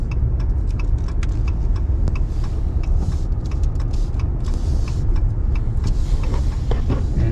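Inside a moving truck on a warm late-March day near a small downtown, a steady low road rumble and engine drone fill the cab, with faint ticking, probably a turn signal, and no one talking.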